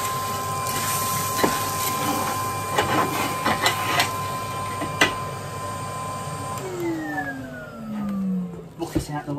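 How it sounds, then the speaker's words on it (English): A vacuum cleaner hoovers up cold clinker from a stove aboard a widebeam boat, a steady motor drone with gritty rattles as pieces are sucked in, the pitch dropping as it winds down near the end. "So we'll hoover that up."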